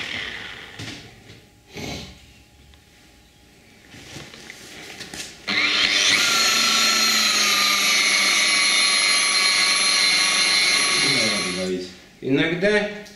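Car headlight being polished with an electric polishing machine: after a few short bursts, a loud high whining motor runs steadily for about six seconds, then spins down, followed by brief further bursts.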